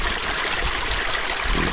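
A small seasonal mountain stream, swollen by recent rain, flows steadily in a close, broadband rushing and trickling wash with no pauses or voices.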